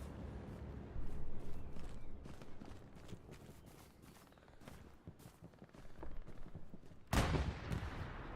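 Machine gun fire crackles in a video game, with irregular bursts of rapid shots at moderate distance and a sharp, loud blast near the end.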